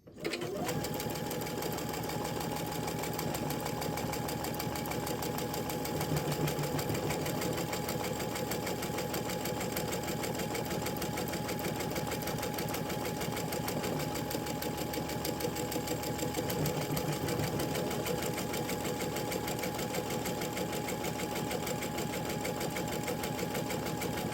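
A Baby Lock Chorus sewing machine sews a one-step buttonhole, humming steadily and loudly up close for the whole stretch, its pitch shifting slightly as the stitching changes direction.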